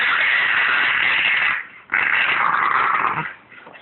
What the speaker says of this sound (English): This is a dog laughing.